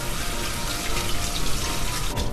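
Steady splash of running tap water rinsing torn lettuce leaves in a colander at a kitchen sink, close and continuous with no talking.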